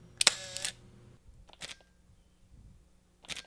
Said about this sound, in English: It's very nice to shoot with such a quiet shutter.